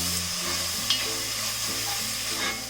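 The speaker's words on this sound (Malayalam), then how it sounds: "ഈ സവാളയും കൂടി ഇട്ട് വഴറ്റി കൊടുക്കാം" Two chopped onions sautéing on medium flame in a Nutrition cast iron pan give a steady, close sizzle and frying hiss throughout, with an occasional stirring scrape and no talking.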